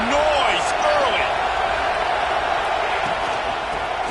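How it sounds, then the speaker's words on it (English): A roaring college football stadium crowd, Arizona State at Clemson, a dense and steady wall of noise with scattered whoops and shouts rising through it from start to finish. "This crowd bringing the energy and noise early."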